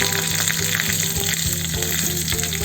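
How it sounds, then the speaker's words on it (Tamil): Cashews, curry leaves and asafoetida frying in hot oil with mustard seeds for a Tamil mixed rice, giving a loud, steady sizzle with bursts of crackling and popping throughout. "கொஞ்சமாக முந்திரி சேர்த்துடலாம் கொஞ்சம் கருவேப்பிலையும் சேர்த்துடலாம் பெருங்காயம்"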